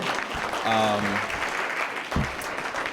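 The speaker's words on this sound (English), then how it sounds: "So for Melanie Almeida, we applaud you." An audience applauds a South Campus student of the month, a moderate spread of clapping hands under a brief tonal sound and a short thump.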